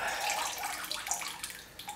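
A ceramic pot dipped into a bucket of raw liquid glaze and lifted out, giving a full, rushing slosh and stream of liquid that eases into softer trickles and drips as it drains, close and fairly loud.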